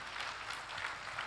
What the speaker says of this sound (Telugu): 50 నుంచి 75 సంవత్సరాల వరకు ఉన్నవారు చప్పట్లు కొడదామండి.